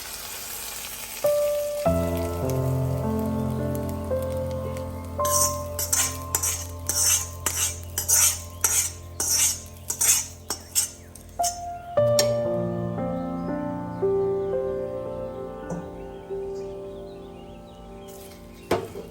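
Metal spoon clinking and stirring as a hot coconut-oil tempering is mixed into banana peel thoran in a pan, with a burst of rapid rhythmic clinks and scrapes amid a steady frying hiss, close and fairly loud.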